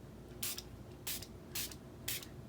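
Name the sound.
Stampin' Spritzer spraying water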